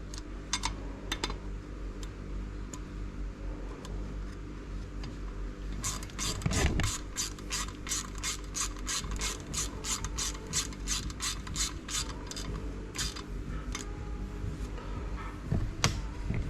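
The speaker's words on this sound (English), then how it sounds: "So what I'm doing now is tapping out the block for the retaining screws, which are M6x1." Thread tap cutting M6x1 holes for retaining screws in a BMW S14 engine block from an E30 M3, giving a long run of rapid, evenly spaced ratcheting clicks up close in a quiet workshop, with scattered ticks before and after.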